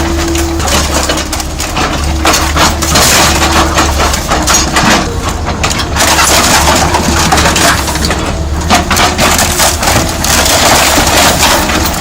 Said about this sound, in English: See, this shredder's sluggish, right? There's a reason behind the drag.